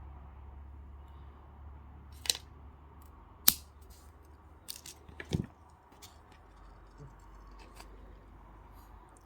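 Wire for wire wrap earrings is snipped with cutters, giving a few sharp, isolated clicks and snaps spread over several seconds against a quiet, faintly humming background.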